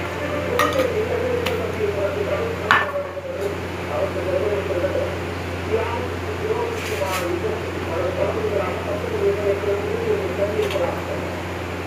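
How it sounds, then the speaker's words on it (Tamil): Mustard seeds and urad dal hit hot oil in a home kitchen pan, giving a soft continuous sizzle and crackle with scattered clinks of utensils, while someone talks. "கடுகு உளுந்து போடுறோம்."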